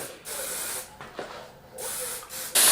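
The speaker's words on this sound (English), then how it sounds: "we're gonna spray some holding spray all on the back" Several short bursts of aerosol hair holding spray hiss onto the back of a haircut, a couple of seconds each with brief pauses between, fairly close and moderately loud.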